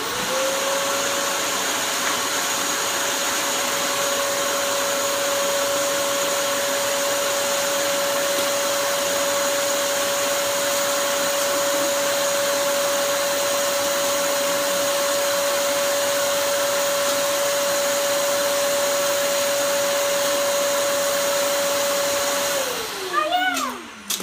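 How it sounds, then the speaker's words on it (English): A Lego Vac vacuum cleaner runs loud and steady up close for over twenty seconds, its motor whine holding level before winding down at the end, while bricks are sucked up; no one talks. "Prove how fun and fast our Lego Vac is compared to picking them up by hand"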